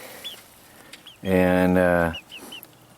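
Chickens outdoors on an off-grid homestead give a loud, drawn-out cluck among small high chirps, with a brief voice nearby.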